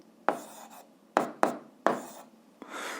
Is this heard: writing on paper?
yes